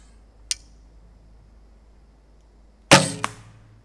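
An arrow is shot from a Hoyt barebow: a faint click, then after a pause a sharp, loud string release with a short ringing thump, close by in a quiet setting.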